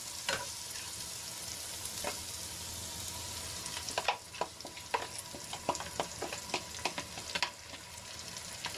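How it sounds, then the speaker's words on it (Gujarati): Spiced yogurt paste being stirred into onions frying in a pan, a steady close sizzle with a burst of scraping spoon clicks and stirring noises in the second half, no talk. "હવે મસાલા અને દહીંની જે પેસ્ટ બનાવીને રાખી હતી એ આપણે આમાં એડ કરી લઈશું"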